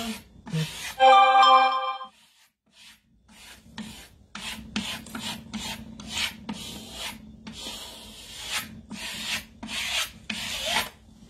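A hand tool smooths Prima Redesign decoupage paper down, making a series of short, close rasping strokes in an uneven rhythm. A brief tonal chime sounds near the start.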